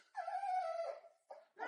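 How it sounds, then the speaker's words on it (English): A puppy left alone whimpers, starting with a long, high, drawn-out cry and then two short whines, fairly close and alone. "Do you notice he's looking for me, and he's starting to cry."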